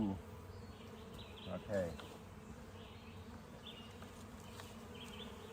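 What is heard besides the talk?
honey bees buzzing around a beehive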